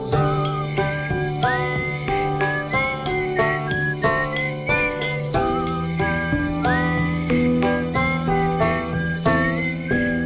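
Bright, sliding whistled notes from the Naruto anime rise and fall over a steady musical backing, a continuous tuneful melody running throughout.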